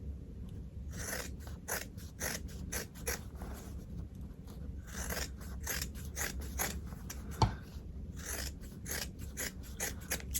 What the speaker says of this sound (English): I'm just going to use regular scissors on this one